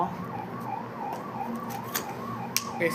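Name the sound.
ambulance siren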